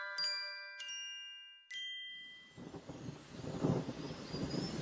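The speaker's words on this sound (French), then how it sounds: "Tout à coup, un orage éclata et il commença à pleuvoir." A storm breaks in a children's story with rain beginning: three bright chimes ring out first, then a low rumble of thunder builds and swells toward the end.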